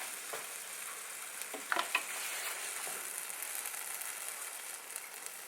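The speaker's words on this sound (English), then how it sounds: "You can hear the sizzling." Food sizzling while frying for about six minutes during home meal prep, a steady crackling hiss with a few sharp pops and clinks of a utensil, fairly close and alone with no talking.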